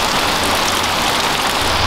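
Heavy rain falls in the mountains as a dense, continuous, loud hiss of drops drumming on surfaces, close and unbroken, with no voices.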